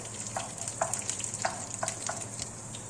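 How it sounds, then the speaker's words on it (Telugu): Chana dal frying in hot oil, a steady bright sizzle with a few sharp crackles and pops scattered through, close and continuous with no talking. "ముందుగా పచ్చిశనగపప్పు వేసుకోవడం వల్ల బాగా వేగుతుంది"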